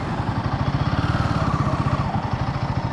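Steady, rapid thumping pulses come from the engine of a Royal Enfield Guerrilla 450 motorcycle as it runs at a moderate level close by, with no voice over it.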